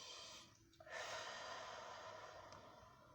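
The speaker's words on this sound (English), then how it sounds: "And take a deep breath in." A single deep inhale taken close by in a quiet healing session, a soft airy rush that pauses briefly, then swells into a longer, steady breath.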